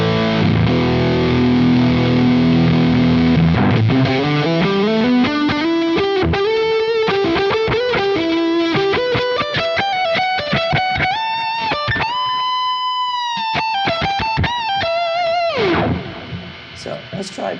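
A Tone Bender Mark II fuzz pedal on an electric guitar plays a loud, heavily distorted riff that climbs through sustained buzzy notes, with a hissy fuzz texture throughout before ringing out near the end.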